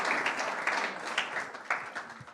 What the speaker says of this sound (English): just keep clapping till they come